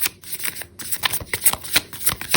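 Tarot cards being shuffled by hand, a rapid run of crisp riffling flicks and soft slaps repeating close up and fairly loud for a couple of seconds, with no voices.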